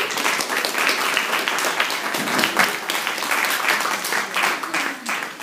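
Crowd applause fills the space for several seconds as an audience claps steadily at a competition ceremony honouring a jump-off finalist, dense and continuous with faint voices mixed in.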